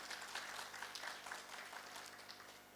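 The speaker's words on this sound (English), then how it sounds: "You can have a clap for yourself." Applause at a medical school class-of-2024 finalists' dinner, a steady wash of clapping from the seated guests that holds at moderate, even loudness for the whole stretch without a clear rise or fade.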